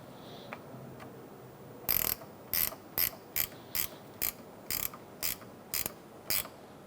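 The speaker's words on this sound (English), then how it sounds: "I'm going to place it on the post, push it down all the way, and tighten it." A wrench tightens the nut on the negative battery terminal clamp of a 2002-2006 Toyota Camry, giving a series of about ten close, sharp ratcheting clicks in quick bursts at a steady rhythm, with no talk.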